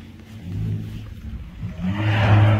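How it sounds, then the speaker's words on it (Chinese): A car with a modified, loud aftermarket exhaust revs, its low engine roar swelling, dipping, then climbing louder near the end with no talk. "这炸街般的排气声是生怕别人不知道你在干什么吗"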